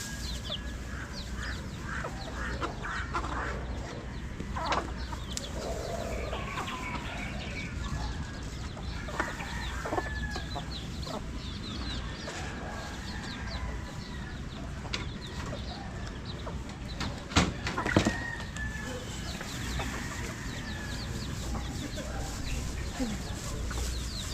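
A large flock of chickens clucks continuously at a distance, with scattered squawks and chirps over a busy outdoor background.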